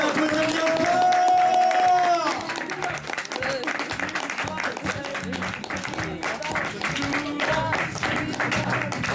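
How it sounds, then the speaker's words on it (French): Applause and crowd noise fill a comedy club after a shout from the stage, clapping and a few cheers continuing steadily with voices mixed in. "on peut l'applaudir bien fort"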